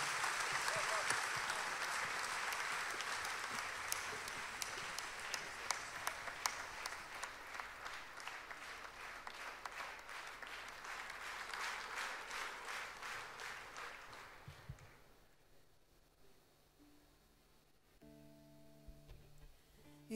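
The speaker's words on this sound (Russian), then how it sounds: "Вы можете смело хлопать." An audience at the Jurmala Rendezvous concert gives a singer loud, sustained applause, dense rapid clapping that holds for about fifteen seconds and then dies away, leaving quiet stage sounds and a few soft tones.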